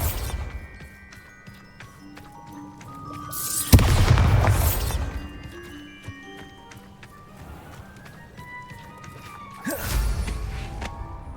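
Bombarda spell explosions in Hogwarts Legacy, two loud booming blasts with rumbling decay, separated by quieter game ambience and music tones.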